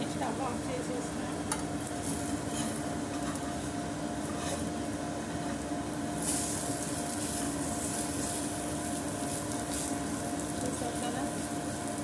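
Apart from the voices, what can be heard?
omelette frying in a pan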